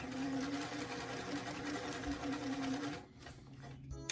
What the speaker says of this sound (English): we're gonna just sew right here along both shoulders